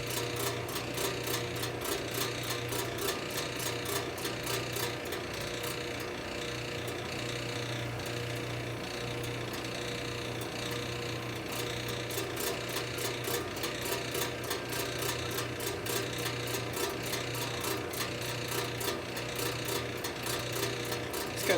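A continuous grinding, rasping whir of a drill bit working into material, steady and close with a faint rhythmic pulse throughout.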